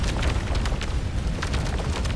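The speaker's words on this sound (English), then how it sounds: "That's our plasma cannon." Plasma cannon fire in the space game Starcom: Unknown Space, aimed at an enemy ship: a steady run of booming, rumbling bursts with crackling peaks, dense and continuous for the whole stretch.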